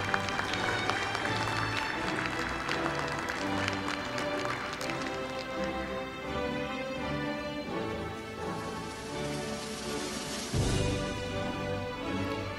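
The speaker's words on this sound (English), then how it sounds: "give our graduates a round of applause while we wait for more graduates" An audience applauds graduates at a 2021 information technology commencement ceremony. The clapping is dense and sustained and runs under music that plays throughout.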